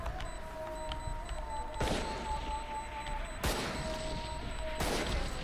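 Explosions in the video game Valorant, three heavy booming blasts spaced a couple of seconds apart over a constant game hum and electronic tones.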